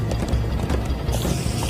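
Hooves of horses galloping in Minecraft Story Mode pound in a fast, steady clip-clop, loud and close throughout with a busy background.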